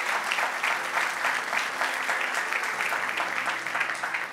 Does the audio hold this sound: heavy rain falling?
no